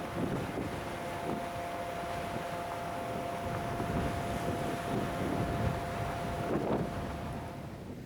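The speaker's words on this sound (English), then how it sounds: "It was a rough ride to get from the ship to the landing site on Detaille Island" A boat crossing rough, windy water from a ship to a landing site on Detaille Island in Antarctica, with steady loud wind buffeting the microphone and a rumbling engine and water-slap wash throughout.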